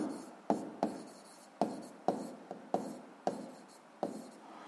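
Chalk or pen writing out a friction formula, a series of short scratchy strokes, each starting with a sharp tap and trailing off, repeating roughly every half second.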